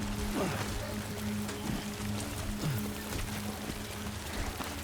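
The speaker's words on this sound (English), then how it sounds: "Rain's letting up a bit." Rain falling in the video game Death Stranding 2, a dense, even hiss of steady rainfall throughout, with a low hum and occasional tonal game sounds underneath, no talking.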